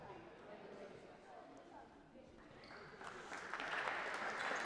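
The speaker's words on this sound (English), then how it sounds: "As the crowd claps off the court" Crowd applause at a women's basketball game, a steady spread of clapping that swells louder near the end.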